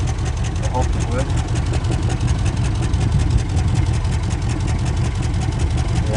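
A 1967 Lincoln engine idles steadily with a leaking exhaust joint at a clamp, a continuous low rumble close by with a faint voice now and then underneath.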